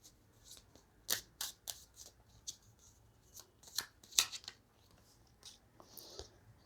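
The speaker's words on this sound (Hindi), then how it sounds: "मैं वापस शफल करूँगी।" Tarot cards being shuffled by hand at close range: a quiet, irregular run of crisp riffles and sharp paper flicks, with soft rustling between them and no voice.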